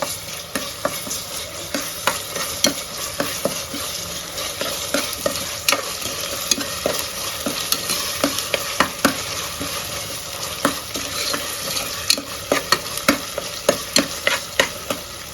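Ginger garlic paste sautéing in a pan for a ghee chicken pulao, a steady close sizzle broken by repeated sharp scraping taps as it is stirred, with no talking.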